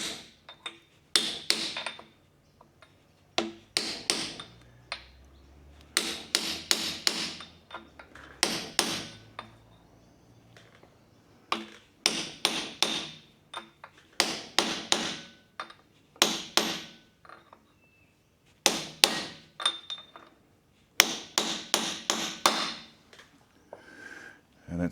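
A brass drift is hammered to seat a part on a Holden HQ build with a big-block Chevy, with repeated bursts of sharp metallic blows in quick clusters separated by short pauses, close and clear with no talking.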